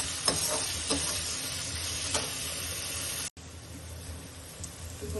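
Sliced big onions sizzle in a pan with a pinch of salt: a steady, quiet frying hiss with a few soft stirring clicks and one brief break partway through.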